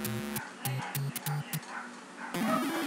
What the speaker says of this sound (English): Once again, I apologize for the dogs.